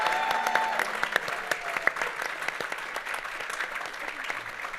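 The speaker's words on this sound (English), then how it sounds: "A round of applause for Chaosium." A crowd at a GenCon 2023 convention panel applauds, a dense, steady clapping that holds loud throughout with a few sharper claps standing out.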